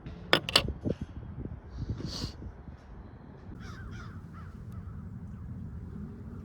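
Crows caw outdoors in a burst of harsh, loud calls at the start, followed by further scattered caws from farther away over a quiet, breezy background.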